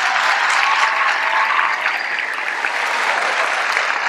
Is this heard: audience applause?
yes